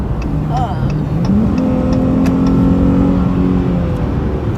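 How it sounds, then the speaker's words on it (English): A 2020 Dodge Challenger's engine revs up as the car accelerates to merge onto a highway, a loud, rising drone heard from inside the cabin with someone talking over it. "And you can hear the engine."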